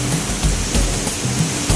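Akamala Thoomanam waterfall in monsoon rain, spray blowing off the falls, as a steady, full broadband roar of falling water that carries on without a break.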